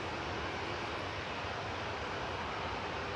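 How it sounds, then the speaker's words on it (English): An Egyptair Airbus A321neo, a one-year-old airliner arriving from Cairo at Manchester Airport, gives a steady, fairly faint broadband jet roar that holds throughout with no voices. "Flight 781 for Egyptair coming in from Cairo, that's SUGFV, a 1-year-old"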